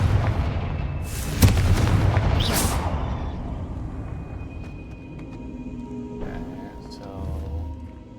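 Confringo blasting spell exploding in Hogwarts Legacy: a sharp loud crack followed by a second burst and a long rumbling decay, with a voice speaking faintly near the end.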